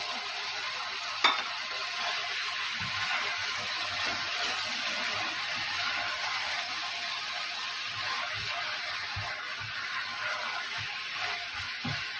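Onions and tomatoes fry in a pan for a fish and tomato dish, giving a steady, close sizzle with scraping stir strokes throughout and a sharp click near the start.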